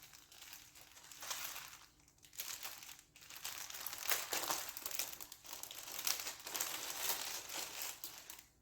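Plastic embroidery kit packaging with floss and a printed linen picture is peeled open, a steady close crinkling and crackling that swells and dips for several seconds with brief pauses, no talking.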